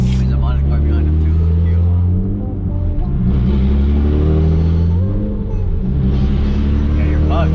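A loud, modified Nissan 350Z engine drones and revs from inside the car while driving, a deep close-up exhaust rumble with rising and falling pitch, and people talking over it.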